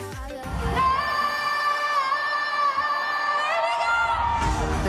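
A massive crowd on the TODAY Show plaza in New York at a summer concert with a pop singer lets out a sustained, high-pitched roar of screams and whoops that swells and holds for several seconds.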